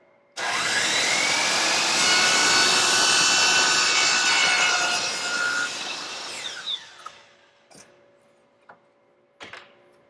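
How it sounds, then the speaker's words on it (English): A miter saw makes one slow miter cut through frame stock for a painting frame. It roars loudly for about six seconds, winds down, and is followed by a few faint knocks. "I'm going to make my first miter cut down like this"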